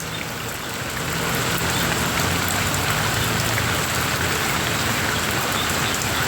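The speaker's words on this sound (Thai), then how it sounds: "ตกเยอะมากฝน" Heavy rain pours steadily on a hut in a flooded date palm orchard, a loud, dense, unbroken hiss with a faint low hum beneath and no talking.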